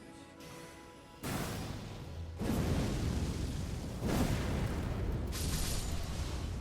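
Death's Poke weapon skill in the video game Elden Ring, a set of deep, roaring blasts that swell and hang on in a dense wash of noise, each fresh burst adding another layer.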